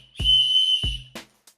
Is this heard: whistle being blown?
yes